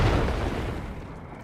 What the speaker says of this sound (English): Let my cannon attack.